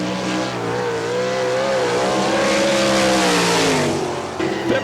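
A sprint race car laps the Barberville, Florida dirt track during an All Star Circuit of Champions event. Its loud engine howls at high revs with rising and falling pitch as it passes close by, easing off near the end.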